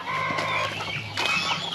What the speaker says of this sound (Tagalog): yan mga manok, pabo